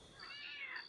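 A cat meows inside a video game, one drawn-out rising and falling call, quiet and fairly close, with no voices over it.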